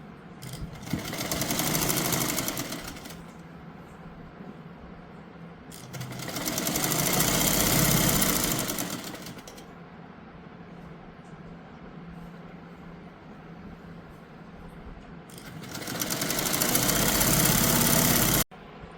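A sewing machine stitches the seams of a straight palazzo pant in loud bursts of about three to four seconds, separated by quieter pauses where a low hum remains.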